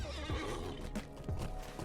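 A horse neighs in a video game, a short whinny with hoof clops and game ambience around it, moderately close but fairly quiet.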